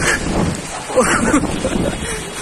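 Heavy rain in a strong storm in Davao City, a dense continuous hiss with gusty wind noise and voices shouting underneath.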